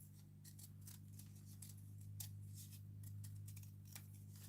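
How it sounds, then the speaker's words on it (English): Scissors snip through paper while cutting out a section for a mixed-media rag doll, a series of faint, crisp, irregular cuts close by over a low steady hum. "we'll go ahead and cut this area out"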